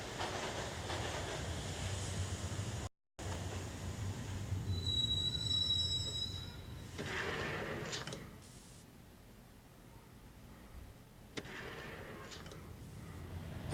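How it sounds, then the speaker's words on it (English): Max Payne subway train riding along the tracks: a steady loud rolling rumble with high wheel squeals that whine through the middle, easing into a quieter run before the roar builds again. "The train doors had already shut behind me, and I was in for the ride."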